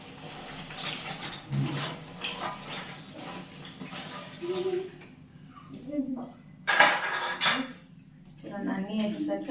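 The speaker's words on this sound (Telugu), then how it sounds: "ఇప్పుడు వీటిలో మనం ఫ్రై చేసుకున్న ఈ బ్రెడ్ ముక్కలు అన్నింటినీ వేసేసుకుందాం." Fried bread pieces are tipped into milk in a pan on the stove, with scattered clinks and scrapes of metal utensils against the pan coming in bursts while a voice talks.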